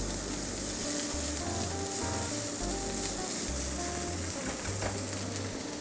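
Rice cake frying in cooking oil in a wok with garlic, a steady loud sizzle running throughout with soft stirring scrapes and no talk.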